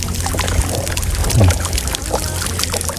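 Water gushes and pours steadily into a swimming pool at a mountain camp as the pool is being refilled, a close, continuous rushing splash with slight swells.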